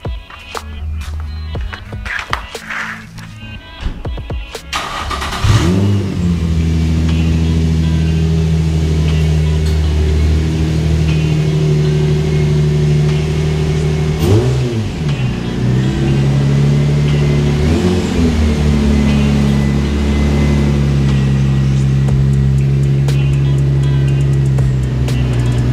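A car engine idles and rumbles close by, revving gently as the vehicle creeps forward into a garage, with a steady low drone throughout and occasional shifts in pitch.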